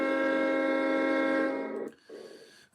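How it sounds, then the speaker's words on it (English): A train horn sounds loud and close as a train pulls out of a station, a long sustained blast that cuts off abruptly after about two seconds, followed by fainter rumbling. "There's the train leaving the station."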